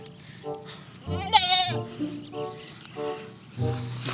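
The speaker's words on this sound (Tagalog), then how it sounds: "At kunin ko itong dalawang kambing na malilikot." Two restless goats bleat in loud, wavering cries, with a sharp burst near the middle and more calls after, close by on a farm, while a person speaks a little around them.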